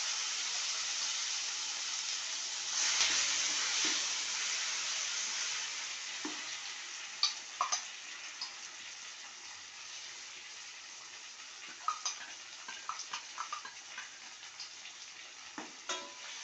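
Ground tomato paste fries in a pan for a Tamil sundaikkai puli kulambu, a soft steady sizzle broken by scattered sharp crackles and stirring clicks, with no voices.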